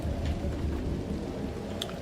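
Heavy rain falls in The Last Caretaker video game, a steady dense patter with low rumbling thunder underneath and a few sharper drops near the end, with no voices.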